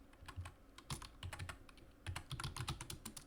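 Quick, uneven bursts of keystrokes on a computer keyboard while code is typed, clicks clustered in short runs with brief pauses, close and fairly quiet with no talk.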